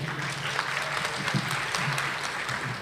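Seminar audience in Maceió applauding the speakers after a pedagogical talk, dense continuous clapping at even loudness throughout, with no speech over it.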